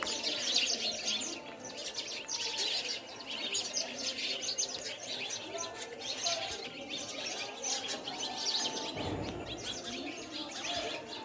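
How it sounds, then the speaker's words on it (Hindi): Many small house sparrows perched together chirp continuously, a dense, busy chorus of tweets filling the whole stretch, close and fairly loud, with no talk. "कितनी छोटी छोटी छोटी छोटी जो भी गौरैया होती है ना चिड़िया, वो आके पूरा बैठी है"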